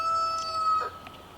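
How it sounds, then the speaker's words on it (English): A rooster crows once at the Alaska cabin, a short call partway through against a steady tonal hum, with no voices. "Rooster."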